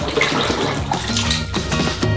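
Melted butter, about 3 kilograms, pours into a thick cream for a giant homemade Kinder Bueno, a steady close liquid splashing and running that continues without a break for a couple of seconds, with no voices.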